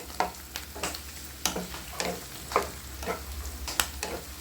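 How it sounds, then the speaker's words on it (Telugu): Nalleru (veldt grape) stems frying on low heat in a pan, a gentle steady sizzle broken by repeated scraping strokes of a utensil stirring every half second or so. "కొంచెం నేను సిమ్లో పెట్టి వేయించుతున్నాను"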